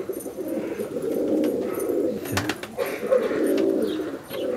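Pigeons coo softly in a loft housing highflying Giribaj and Madrasi birds, with low throaty burbles repeating through the short stretch, joined by a brief flutter near the middle.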